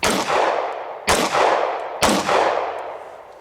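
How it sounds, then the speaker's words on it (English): .40 caliber pistol shots fired at a car door outdoors, three loud sharp reports about a second apart, each followed by a decaying echo. "Next up, the 40. Let's shoot way off to the side so I know this one."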